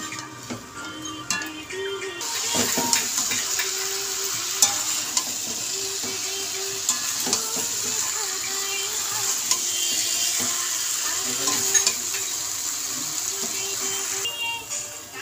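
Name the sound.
vegetables being stir-fried in spice masala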